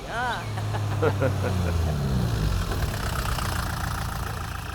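A tractor engine runs on a dirt setting in an Indian action film, a low steady idling rumble that continues under a voice speaking briefly at the start.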